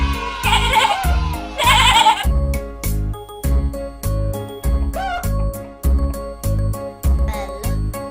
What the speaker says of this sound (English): Is it a sheep?